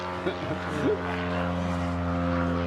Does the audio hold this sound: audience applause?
no